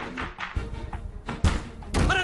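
Someone bangs on a door trying to break it, several heavy thuds landing at irregular intervals, close and loud, with a voice speaking between blows.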